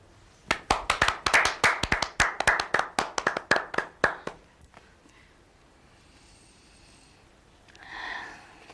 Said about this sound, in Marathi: तुम्ही टाळ्या वाजवून ना मला कॉन्शियस करताय